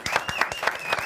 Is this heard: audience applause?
yes